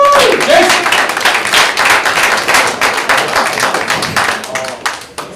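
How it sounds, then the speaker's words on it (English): Loud clapping from a small group at an office meeting, individual claps distinct and uneven rather than a smooth wash, tapering off over about five seconds with a voice briefly heard. "give them a round of applause for Jimmy, Jason"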